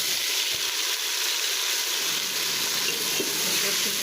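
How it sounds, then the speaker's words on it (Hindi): Chopped tomatoes fry with browned onions in a pan while cooking a beef paya curry, giving a continuous close sizzle with faint stirring scrapes and no voices. "तो ये टमाटर को हमारे अच्छे से भून चुके हैं"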